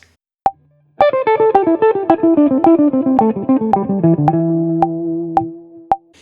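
A bright, distorted electric guitar plays a fast repeating pentatonic run of picked notes that loops in an uneven, polyrhythmic cycle, ending with a few sharp plucks.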